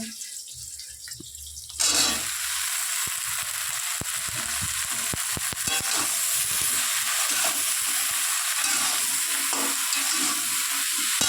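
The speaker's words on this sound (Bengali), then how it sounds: "এই যে কড়াও চাপিয়ে দিয়েছি আমি ভেন্ডিটা করব বলে" Okra and potato curry fries in a hot wok, a loud steady sizzle that bursts in after a quieter start and continues unbroken, with occasional scrapes and knocks of stirring.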